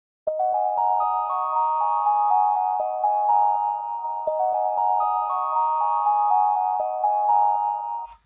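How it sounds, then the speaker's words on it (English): A synthesized wind chime instrument plays a clean, bright melody of sustained ringing tones with no high pass filter, steady and fairly loud throughout with no voices. "it's like the wind chime instrument again, except for I got rid of like the high pass filter"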